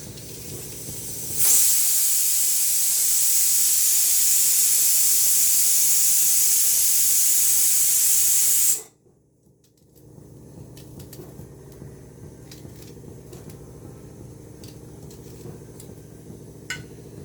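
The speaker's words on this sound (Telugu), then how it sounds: "విజిల్ వచ్చేటప్పుడు మాట్లాడినా వినిపించలేకుండొచ్చు మీకు." A loud, sustained steam hiss from a pressure cooker blows for several seconds, then cuts off abruptly, leaving quiet room noise with faint clinks.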